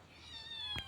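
A domestic cat gives a single short meow near the end, soft and close in a quiet room with faint background hiss.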